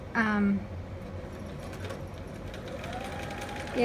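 A sewing machine runs a straight stitch through fabric close by, with a steady, quiet mechanical whir and rapid needle clatter, and brief speech at the start and end.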